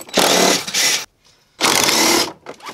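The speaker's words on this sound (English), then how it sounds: "you can go ahead and take your electric tool here and take it out just like that" Electric screwdriver backing out roof trim screws on a Subaru WRX during an OEM roof rack install, two loud close whirring bursts of about a second each separated by a short pause, with a third brief burst starting at the end.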